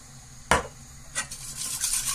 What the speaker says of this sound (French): et on remue la sauce